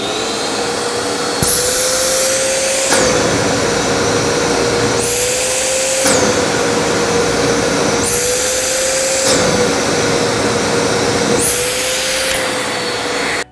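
A Makita VC2512L wet/dry vacuum cleaner runs with a steady drone while its filter is cleaned by a button-triggered reverse airflow, giving four loud two-second whooshing bursts at regular intervals over the continuous motor hum.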